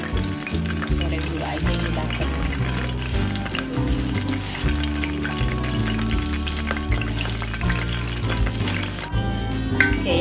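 Buttermilk chicken frying in hot oil, a dense, continuous sizzle and crackle heard up close throughout, with some clattering in the background.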